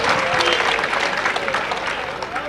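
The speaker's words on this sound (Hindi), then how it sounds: "अच्छा लगे तो तालियों से बताते हैं।" Loud, sustained applause from a large audience at a Hindi comedy poetry gathering, continuous clapping filling the whole moment.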